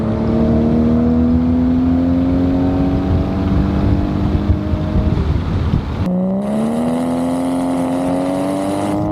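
A Toyota 1JZ engine pulled hard to high RPM, its steady rising drone climbing in pitch, cutting briefly near the six-second mark and then surging up again even higher, loud and close with no talking.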